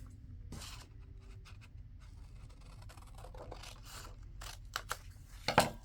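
Scissors snip paper for a pocket made from an envelope, with faint scraping and handling followed by a few distinct close cuts that grow louder near the end, and no talking.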